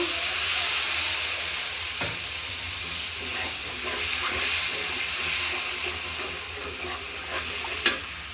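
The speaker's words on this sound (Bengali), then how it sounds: "পেস্টে ভাজি হয়ে গেছে সুন্দর করে। এখন একটু পানি দেবো।" Spice paste frying in a pan with a splash of water added, giving a steady, loud sizzle and hiss throughout, with a few faint utensil clicks near the end.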